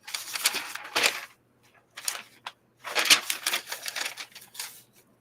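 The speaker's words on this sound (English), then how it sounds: "I love hearing him shuffle through the spells" Spell cards get shuffled at a tabletop roleplaying game, making several close, crisp bursts of riffling and flicking with short silent gaps between them.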